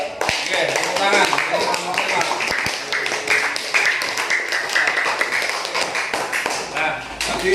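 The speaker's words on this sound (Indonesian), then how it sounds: "Oke, tepuk tangan." Students in a classroom clapping, with a mix of sharp individual claps and taps over busy talk and chatter, fairly close and continuous throughout.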